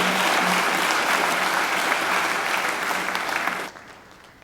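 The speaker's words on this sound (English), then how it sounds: "I think she deserves another great round of applause." An audience at a Macquarie University graduation ceremony applauds loudly and steadily for several seconds, a dense wash of clapping that fades and stops abruptly near the end.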